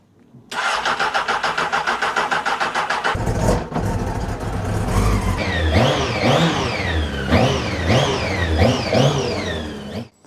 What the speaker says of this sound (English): Let's run her up and see if she'll warm up.